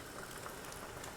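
Soft, steady bubbling hiss of water boiling in a pot for chicken noodle soup, quiet and brief with no voices.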